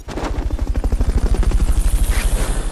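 Fulton recovery helicopter from the Metal Gear Solid: Peace Walker video game, a loud, steady rapid rotor thumping that pulses evenly throughout with no talk.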